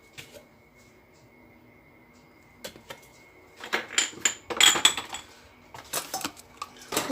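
Bastilla filling of vermicelli, peppers, tuna and spices being stirred in a bowl, quiet at first, then a burst of clinking and scraping utensil strokes against the dish.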